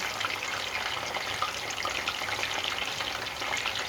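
Steady, dense crackling sizzle of marinated chicken breast frying in hot oil, continuous and fairly close, with no voices.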